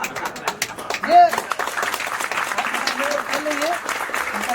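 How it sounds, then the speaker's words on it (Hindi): Brief burst of clapping from a small group during a children's quiz game, light scattered claps under an ongoing voice that keeps talking throughout. "तालियां बजाया जाए"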